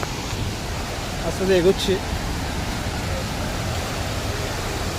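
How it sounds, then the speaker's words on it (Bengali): Devkund waterfall in Odisha gives a steady, broad rushing roar that runs through the whole stretch, with a person speaking briefly over it near the middle. "পুরো ঝর্ণাটা আপনাদেরকে দেখাবো।"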